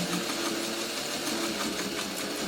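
A sewing machine stitches a quilted doodle design, a quiet, steady mechanical whirr running continuously for a couple of seconds with no talking over it.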